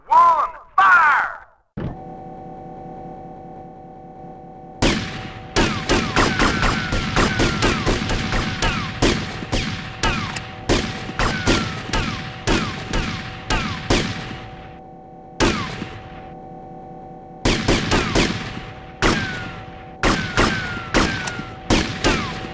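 Firing-squad volleys of gunfire in GTA Vice City ring out as loud, rapid bursts of shots in repeated clusters, with brief pauses between volleys and a steady low hum underneath.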